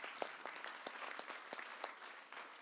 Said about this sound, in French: Donc, une bonne main d'applaudissements pour Sylvain Junior.